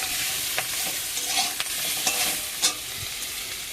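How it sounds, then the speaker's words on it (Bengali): Banana flower (mocha) fries in hot oil, seasoned with salt and turmeric, giving a continuous close sizzle. Occasional scrapes and knocks come from stirring in the pan, and no one speaks. "মোচাগুলো ভেজে নেব।"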